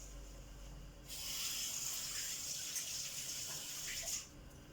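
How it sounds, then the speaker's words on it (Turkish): Hands being washed under a running tap in a kitchen during bread making, a sudden hiss of water that runs steadily for about three seconds and then cuts off, close by with no talking. "Bir elimi yıkayayım."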